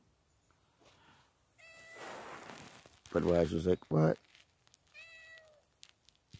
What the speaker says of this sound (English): Except for that cat meowing.